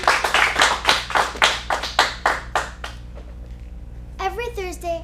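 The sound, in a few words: applause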